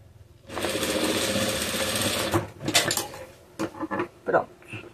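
A sewing machine stitches fabric for a small Easter bag, running in one steady two-second burst of rapid mechanical whirring, then giving several short stop-start runs as someone talks.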